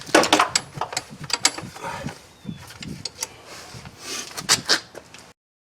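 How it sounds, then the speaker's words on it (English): Metallic clicks and ratcheting from a wrench working loose the 15 mm caliper mounting bracket bolts on the front brake of a 2001 Buick Park Avenue, a close, irregular series of sharp taps and bursts with no talk. "So I'm just going to take this caliper mounting bracket off."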